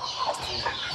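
Chickens on a native chicken farm cluck in short, close, overlapping calls that carry steadily through the whole brief moment with no talk.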